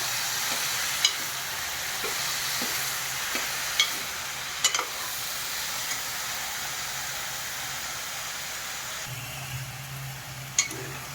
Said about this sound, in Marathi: हे 2 मिनिटं व्यवस्थित परतून घ्यायचं.